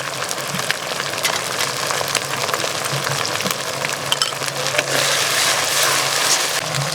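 Garlic, ginger, chili, cumin, coriander and radhuni pastes sizzle and spit in hot oil in a pan, a steady dense frying crackle with occasional stirring scrapes, growing a little louder near the end.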